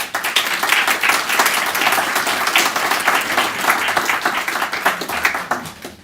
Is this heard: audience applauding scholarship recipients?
yes